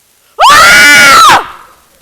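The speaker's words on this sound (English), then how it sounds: "Scream!" A single loud, piercing scream from offstage during a stage murder-mystery performance, rising sharply, holding for about a second, then cutting off with no other voices around it.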